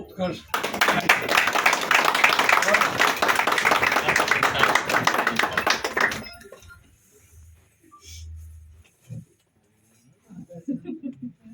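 Audience applause at a traders' association meeting, a dense burst of hand clapping for about six seconds that stops abruptly, followed by quiet murmurs and a few scattered voices.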